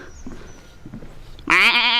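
A man imitates a goat with a loud, wavering bleat that breaks in suddenly after quiet background murmur and carries to the end, inspired by mountain goats seen in the hills around Tam Coc in Ninh Binh, Vietnam.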